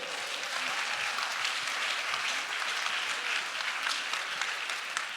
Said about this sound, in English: Give a round of applause for the graduates.